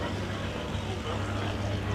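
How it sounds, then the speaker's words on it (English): A blown alcohol displacement race boat idles in the pits at power boat races with a steady low rumble and throb, continuous and fairly loud throughout, with no other sounds standing out. "We can hear one of the blown alcohol displacement boats"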